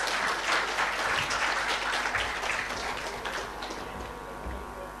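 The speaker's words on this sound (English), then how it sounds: "An applause for our friend, please. Louder, louder." Audience applause fills a tech conference hall at a developer event in Chennai, a steady wash of many hands clapping for about five seconds, loud and continuous before easing slightly toward the end.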